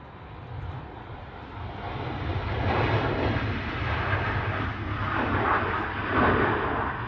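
Boeing 787-9 Dreamliner departing an airport, a distant jet roar that swells and holds steady as it climbs away, with no talk over it.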